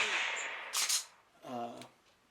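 A laser training pistol is fired at a target for practice, giving a sharp click of the shot, then a short electronic tone from the target system. Two distinct close events stand over a quiet hiss, with no one speaking.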